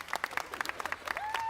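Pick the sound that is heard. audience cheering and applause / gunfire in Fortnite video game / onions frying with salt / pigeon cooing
audience cheering and applause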